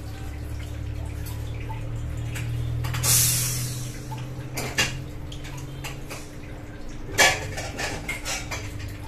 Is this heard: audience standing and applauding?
no